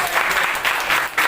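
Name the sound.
classroom applause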